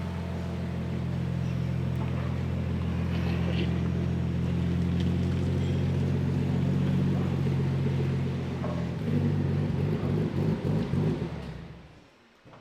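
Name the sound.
Nissan S15 Silvia with 8HP70 transmission driving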